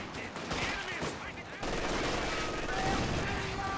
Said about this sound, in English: And the double rifle grenade launches again,